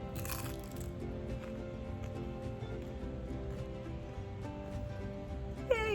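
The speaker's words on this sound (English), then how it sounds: "let's see how crunchy these baked lime salt chips are" Crunchy baked tortilla chips seasoned with lime and salt are bitten and chewed up close, giving a run of dry, brittle crunches over a steady low background hum.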